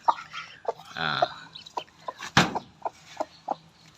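A mother hen clucks in short, repeated bursts with a sharper squawk midway, close and moderately loud, with faint chirping of ducklings she hatched in the background.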